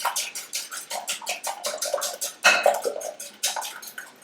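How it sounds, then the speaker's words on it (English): Eggs beaten with a whisk in a bowl, a rapid run of close, bright clinking taps against the bowl's sides in an even rhythm, with a brief louder clatter midway and no talking. "So let's go ahead and beat those with a whisk."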